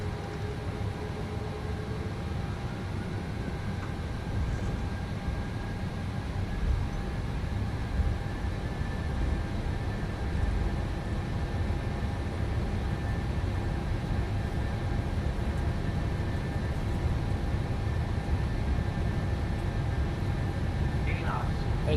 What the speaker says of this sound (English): first takeoff in our 737-800 in MSFS 2024